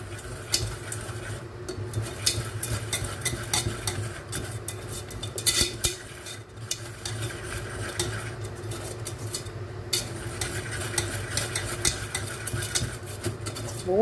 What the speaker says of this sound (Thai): ก็คือเนยเราเดือดแล้วนะคะ ก็เอา ผงของซอสเนี่ยนะคะ มาผัดกับเนยค่ะ